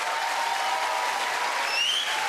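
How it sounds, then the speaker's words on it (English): Studio audience applause for a singer on a televised singing competition, steady and full throughout with no talking. "Big round of applause for Jackie, please."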